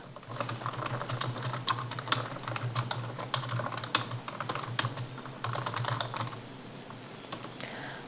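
Someone types on a computer keyboard while writing in a Word document. A dense, uneven patter of close keystrokes runs throughout, with no talking.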